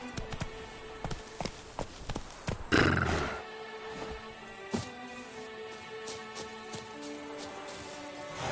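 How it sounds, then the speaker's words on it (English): Horse in The Witcher video game making hoof clip-clop beats and a loud whinny near the three-second mark, with rain pattering in the background. "Run, Roach"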